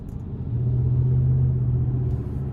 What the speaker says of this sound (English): But love the exhaust sound